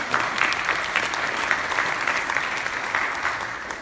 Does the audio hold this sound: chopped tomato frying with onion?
no